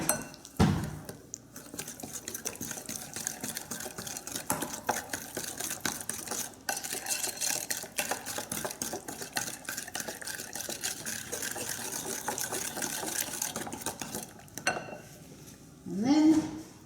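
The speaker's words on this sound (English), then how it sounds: "Whisk that in." A whisk beats an ingredient into a mixture in a bowl, making continuous quick scraping and clinking strokes at a steady pace for most of the stretch.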